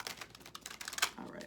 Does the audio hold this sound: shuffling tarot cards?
yes